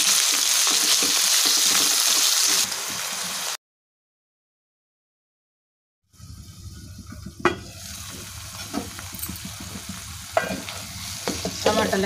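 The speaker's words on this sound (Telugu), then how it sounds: "తర్వాత టమాటా ముక్కలు, తగినంత సాల్ట్ వేసుకొని మిక్స్ చేసుకోవాలి." Tomato pieces and salt stirred into a frying onion, ginger and garlic masala: a loud, bright sizzle that cuts out briefly, then returns with clattering stirs and scrapes of the spoon against the pan.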